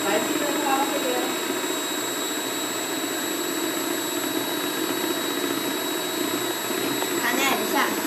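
An electric hand mixer whips packaged cake mix batter, giving a steady, close motor whir with a high whine that runs unbroken throughout.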